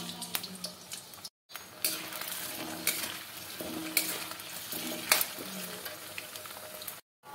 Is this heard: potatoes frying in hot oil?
yes